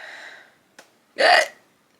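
A single loud human hiccup, a sharp close gulping burst lasting about a third of a second, preceded by a faint catch of breath and a trailing bit of voice.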